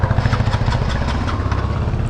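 A Hero Xpulse 200 4V motorcycle engine runs just after its first service, a close, steady idling chug with a rapid even pulse.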